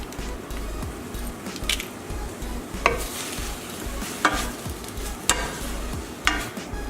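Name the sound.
stirring sour cream into kale on a low simmer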